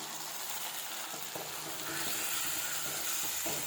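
Onions and mutton masala fry in hot oil in a pan, giving a steady, loud sizzle that grows slightly denser partway through, with faint stirring scrapes and no talking.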